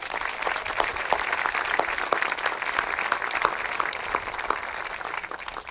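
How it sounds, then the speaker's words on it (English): An audience at an outdoor sculpture dedication applauds volunteers and craftsmen, a steady crowd of many hands clapping at an even, moderate level throughout with no talk on top. "Let's give them a round of applause."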